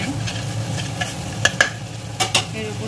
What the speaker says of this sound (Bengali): একটু বাটারে ভালোভাবে নেড়ে চেড়ে এর উপর দিয়ে দেবো পেঁয়াজ